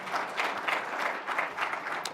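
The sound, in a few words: audience applause for the judges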